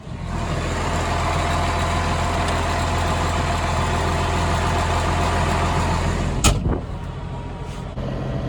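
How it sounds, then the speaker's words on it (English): A tractor engine idles in a steady, low rumble up close, then cuts off with a brief clunk, leaving quieter background noise. "Oh, listen to that thing purr."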